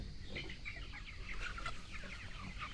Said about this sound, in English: A handful of farmers now let their chickens roam free on pasture